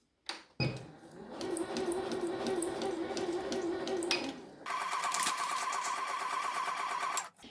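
A sewing machine runs at reduced speed with a small stitch length, stitching on paper, steady whirring that shifts to a brighter, busier rhythm midway before stopping; no voices.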